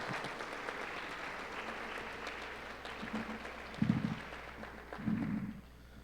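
Audience applause at a national education conference, a steady wash of clapping from a crowd in a hall, moderately loud and sustained, with a few louder thumps near the end as it fades.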